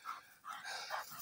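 A high-strung imported breeding dog panting quickly and close, a few short rhythmic breathy huffs, faint and alone.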